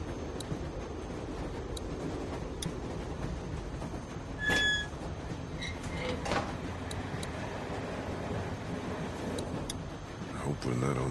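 Riding inside a moving train car: a steady low rumble of wheels and carriage, with brief metallic squeaks and a short whine partway through.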